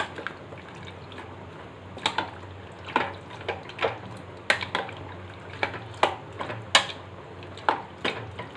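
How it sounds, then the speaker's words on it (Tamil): Fried vadas being stirred into curry in a cooking pot, giving soft wet squelches and intermittent clinks of a spoon against the pot at an uneven, unhurried rhythm, close and fairly quiet. "இதில் எல்லாம் கலக்கணும்."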